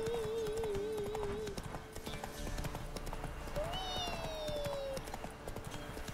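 Roach, a horse in The Witcher 3, gallops in a steady rhythmic clip-clop of hooves that runs through the whole stretch, while a voice speaks briefly and other game sounds play.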